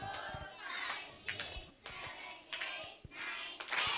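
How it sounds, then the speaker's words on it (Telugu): Children in a Sunday school class giving rhythmic flying claps, several sharp clap bursts spaced across a few seconds, fairly quiet and near, with faint voices around them. "చంద్రికకు ఫ్లయింగ్ క్లాప్స్ కొట్టాలి, ఫ్లయింగ్ క్లాప్స్"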